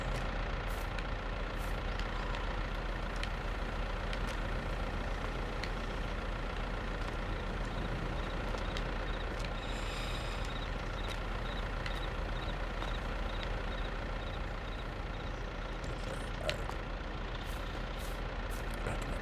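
Tractor engine in Farming Simulator 22, a steady, droning diesel hum with a constant low rumble and faint mechanical whine, holding an even level throughout with no talk over it.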